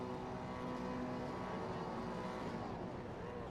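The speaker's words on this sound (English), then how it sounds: "Engine starting to roar." Race car engines in iRacing, V8 cars at Phillip Island, drone loudly and steadily together as the field waits for the start lights, a dense sustained roar with no pauses.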